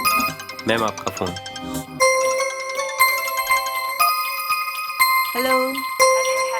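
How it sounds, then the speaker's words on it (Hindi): A mobile phone plays a melodic electronic ringtone of bright sustained notes in a steady stepping pattern, loud and near, with a brief bit of speech at the start before the ringing continues alone. "मैम आपका फोन"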